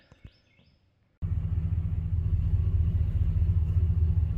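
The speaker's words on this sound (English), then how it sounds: "We got everything back together, truck's running." RAM truck with a 5.7 Hemi V8, fitted with an upgraded thermostat, starts up after a few faint clicks and settles into a steady, deep rumbling idle, close by and continuous.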